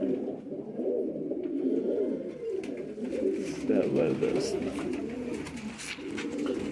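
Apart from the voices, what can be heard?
pigeons cooing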